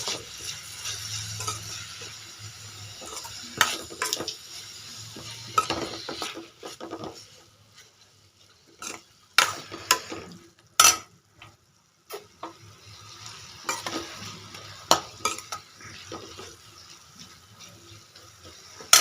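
Fried rice is stir-fried in a pan with chili, producing irregular metallic scraping and clattering of a utensil against the pan under a soft sizzle, with brief pauses in between.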